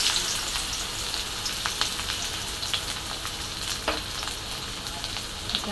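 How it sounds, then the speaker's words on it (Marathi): Chopped onion frying in hot oil in a kadhai wok: a steady bright sizzle with spattering crackles and occasional stirring scrapes, close and continuous. "त्यामध्ये टाकला मी कांदा आणि कांदा असा छान परतून घेणार आहे बघा."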